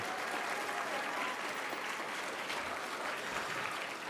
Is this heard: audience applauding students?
yes